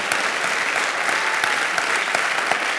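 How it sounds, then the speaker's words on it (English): An audience at a live poetry performance event in 2011 gives steady, dense applause that fills the whole moment at a close, even level, with no voices rising above it. "give them a round of applause"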